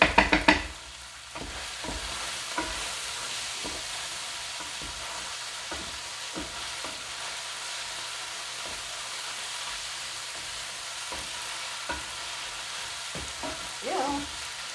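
Pork sizzling in a pan with oyster sauce and other sauces, a steady close frying hiss with intermittent scraping stirs and clacks of a utensil against the pan, continuing throughout without talk.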